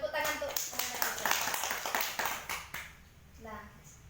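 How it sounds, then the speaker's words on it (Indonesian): Children in a classroom clap together for a few seconds, dense and close, thinning out toward the end while a voice speaks over and after the claps. "tepuk tangan untuk anak-anak Ibu"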